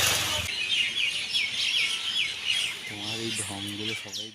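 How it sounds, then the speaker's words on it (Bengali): Busy birds chirp and twitter in quick, overlapping bursts from above, with a voice briefly joining near the end. "ক্যাচর ম্যাচর করেই যাচ্ছে পাখিরা"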